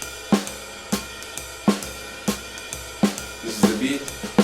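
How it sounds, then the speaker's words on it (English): Jazz waltz drum loop in three with swung eighth notes: sharp accented hits recur about every 0.7 seconds, with lighter cymbal and snare strokes between them, loud and close with no voice. "Let's listen to the drum loop that I've used"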